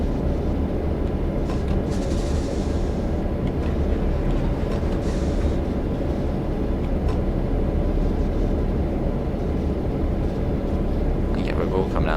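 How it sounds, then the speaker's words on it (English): A Santa Fe F7 diesel locomotive in the Train Sim World 3 game, on Cajon Pass, gives a steady, loud engine rumble and rolling drone throughout, with faint higher whines and clicks on top. "Brakes are alright on this train"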